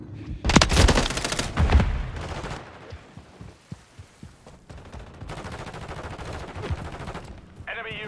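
Gunfire in the Call of Duty video game comes as loud, rapid automatic bursts at the start, then gives way to quieter, scattered shots and a low hum.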